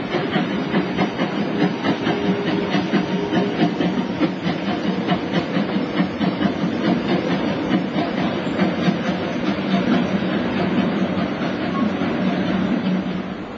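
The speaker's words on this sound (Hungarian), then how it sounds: "Az úgynevezett tramváj jellegű, vagy más néven közúti-vasúti gőzmozdony a pálya építésének évéből 1887-ből származik." A steam tram locomotive from 1887 runs along a one-metre narrow-gauge line, giving a steady close rumble with hiss and rapid rhythmic clatter that holds even for the whole stretch, with no talking.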